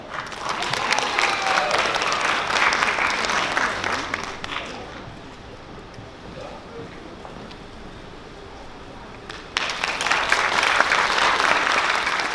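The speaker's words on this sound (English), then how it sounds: "Please give her a warm round of applause." A school audience at the 2021 XLIS Christmas Concert gives a warm round of applause as the head of school comes to the stage. The dense clapping eases midway, then swells again near the end.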